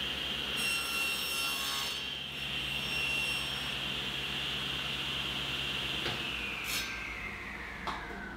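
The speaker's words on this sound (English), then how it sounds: "Working from the other side of the fence, I've adjusted the fence so the blade is at the line." A table saw whines steadily as it cuts a wooden planter leg guided by a miter gauge, a loud continuous high-pitched tone with the blade's pitch shifting slightly near the end.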